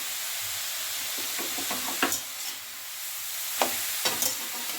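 Grated carrots fry in a pan for carrot halwa, giving off a soft, steady sizzle and hiss, broken by a few sharp scrapes and clicks as a utensil stirs them.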